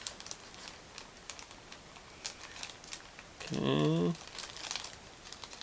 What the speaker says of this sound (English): I'm going to cut through this plastic bag once again and we will take a look